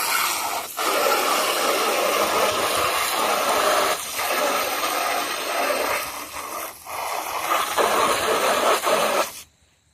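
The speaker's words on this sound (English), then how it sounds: "now I'm just deciding to hose it down. Give it a good clean wash." Water from a hose sprays onto a Slash guitar body, a steady loud rushing hiss that runs continuously before cutting off at the end.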